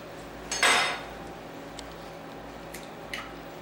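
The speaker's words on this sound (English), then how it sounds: "So I'm going to crack my egg" An egg cracks against a bowl for muffin batter: one sharp, close tap-and-crack near the start, then faint small knocks and clinks of kitchenware in a quiet room, no talk.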